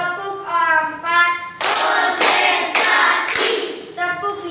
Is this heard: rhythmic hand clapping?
yes